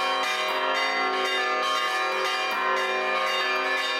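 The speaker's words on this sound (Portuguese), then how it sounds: "os sinos badalam para anunciar os ritos de vida e morte nas igrejas" Church bells rung by hand by bell-ringers in São João del-Rei peal continuously, overlapping strikes of several bells ringing loud and bright with a sustained shimmering resonance.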